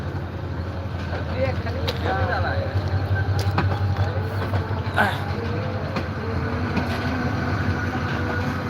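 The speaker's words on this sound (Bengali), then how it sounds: "গুটি গুটি পায়ে ট্রেনটি রওনা হয়ে গেল রাজশাহীর উদ্দেশ্যে" A train slowly pulls away towards Rajshahi with a steady low rumble and scattered clanks and clicks of wagons, moderately loud, with voices faintly in the background.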